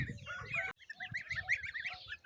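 Goslings peep in a steady stream of high, rapid chirps, close by, with a brief pause early on and no talking.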